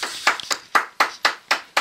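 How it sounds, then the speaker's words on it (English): Sparse, thin clapping from a few people at home, eight evenly spaced claps in under two seconds, close and fairly quiet with nothing else around them. "Worst applause ever!"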